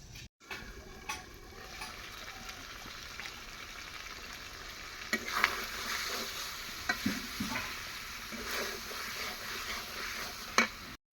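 Desi chicken curry is stir-fried in a pan, with a steady low sizzle and scattered sharp scrapes and clicks of stirring, close by and with no voices.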